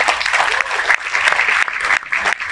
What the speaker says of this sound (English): Now, can we give him a round of applause?